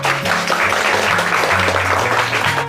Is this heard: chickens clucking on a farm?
no